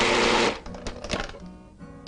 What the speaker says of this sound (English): We're going to pulse it again.